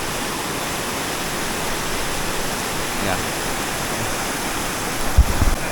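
Steady broadband rush of a waterfall on a countryside stream in western Pennsylvania or New York, loud and continuous throughout, with a brief spoken word near the end.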